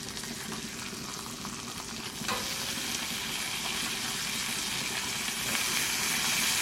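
Country style ribs sear in butter on a flat top griddle, a steady close sizzle and crackle of frying fat that grows a bit louder partway through, with no talking.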